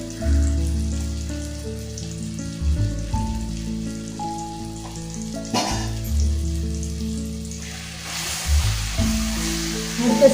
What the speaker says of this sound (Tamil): எண்ணெயிலே நல்லா வதக்கணும்.